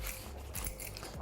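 Knife chopping food into small cubes on a board, a quick run of close, crisp cuts within about a second, fairly quiet.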